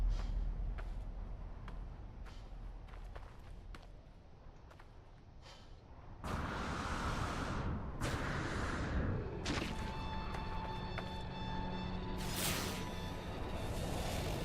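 An incoming storm on a barren planet in No Man's Sky: steady windy hiss at first, then bursts of loud whooshing gusts and thuds with ringing tonal warning sounds layered on top, all without voices.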